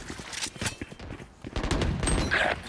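Gunfire in Valorant, with bursts of sharp shots and rapid rattling volleys crackling over a few seconds, fairly close and punchy, with a faint voice underneath.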